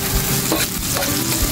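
Garlic and onion stir-fry in a pan with a steady, close sizzle and scraping stirs, continuous and fairly loud with no voices.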